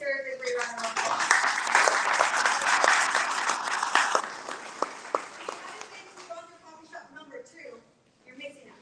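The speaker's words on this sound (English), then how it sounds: "Today she deserves a great round of applause." Applause from an audience at a live mayoral forum in Bronzeville, a broad wash of clapping that swells early, holds for several seconds and then thins out into scattered claps, with some voices mixed in.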